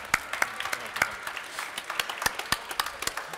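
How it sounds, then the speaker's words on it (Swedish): Sparse, scattered clapping from a small group greets chef Robert during the Årets Kock 2013 cooking competition in Göteborg, distinct individual claps rather than a full ovation, fairly quiet and close. "En applåd. Bra jobbat, Robert."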